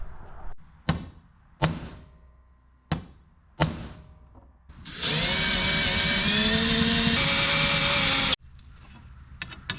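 An electric drill bores a hole in a metal seat bracket from a Porsche 997 being fitted into a 986. A few sharp knocks come first, then a loud, steady, high-pitched whine of the bit cutting metal for about three seconds.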